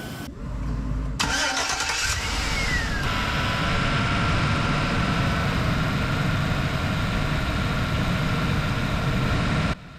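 Van engine cranking and starting, then running steadily with the air conditioning compressor engaged after a low pressure switch bypass, a loud continuous mechanical hum and whir that cuts off near the end.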